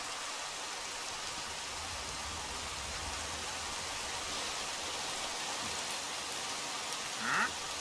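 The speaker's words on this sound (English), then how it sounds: "Oh, it's raining." Steady rain in the Minecraft video game with the Create modpack: an even, continuous hiss of falling drops throughout, with one brief soft sound near the end and no talking.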